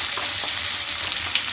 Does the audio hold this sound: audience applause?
no